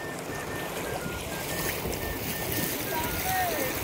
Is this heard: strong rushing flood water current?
yes